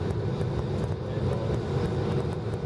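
A United Airlines Boeing 737-800 landing at San Francisco International Airport, heard as a steady, continuous jet roar with broadband rumble throughout and no clear speech.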